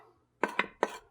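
A spoon scrapes and clinks against a pot while scooping out a mixture of pancetta, onion and melted cheese, three or four quick close metallic knocks in about a second.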